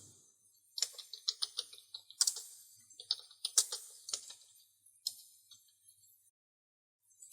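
Quick, light taps of a phone's on-screen keyboard land in uneven bursts as a search term is entered into the Play Store search bar, crisp and close with short pauses between keystrokes.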